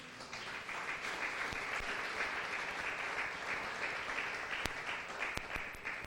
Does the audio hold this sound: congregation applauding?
yes